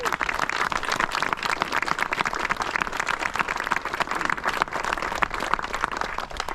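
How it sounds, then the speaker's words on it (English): A parkrun crowd outdoors applauds the volunteers with dense, steady clapping at a moderate distance, with faint voices mixed in. "Can you give them a big round of applause?"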